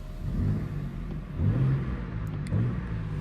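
Inside a BMW M2 G87 with the exhaust valve off and the window open, the engine rises and falls in a few mid-pitched revs, a muffled, droning surge repeated roughly three times with no talk.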